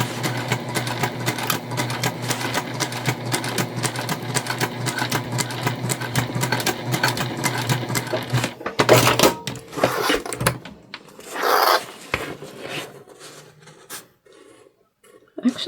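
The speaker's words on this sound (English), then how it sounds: "I'm going to do an initial stitch here, see if we caught the corners." A sewing machine runs steadily for about eight seconds while stitching a bag, its fast even whir close and loud, then stops and gives way to a few short handling clatters and quieter rustles.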